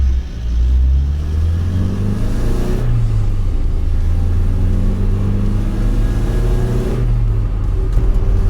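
An Opel Kadett with a C20XE engine revs loudly and close up, its pitch rising and falling through repeated throttle blips over a deep idle.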